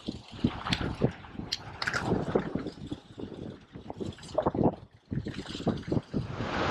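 Strong gusting wind of about 15 mph batters the microphone beside a jetty with big waves, making loud irregular buffeting rumbles with brief lulls.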